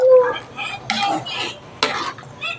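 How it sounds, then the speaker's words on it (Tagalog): A spoon scraping and clinking against a pot while stirring coconut milk for Bicol Express, with two sharper metallic knocks among softer swirling scrapes, close up. "haluin natin para hindi mamuo yung gata"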